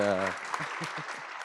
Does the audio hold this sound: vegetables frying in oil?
no